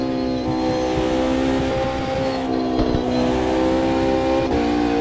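Race car engine droning loud and steady in Automobilista 2 at the Jerez circuit, GT3 championship racing, with sustained high revs and shifting pitch throughout, no talk.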